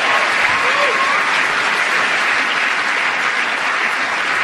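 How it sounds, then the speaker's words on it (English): Studio audience applause on a radio panel show, loud, dense and sustained clapping filling the whole stretch without pause. "those instant rounds of applause there"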